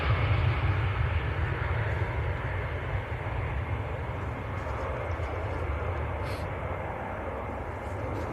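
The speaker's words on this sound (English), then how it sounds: "it does look like Etihad's on the move" An Etihad airliner moving on the ground at Manchester Airport, a steady loud jet engine roar with deep rumble holding constant throughout, heard from a spotting position.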